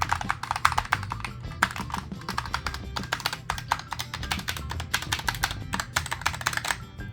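Rapid clacking keystrokes on a Razer Huntsman Tournament Edition TKL mechanical keyboard, continuous fast typing with crisp, close-up clicks.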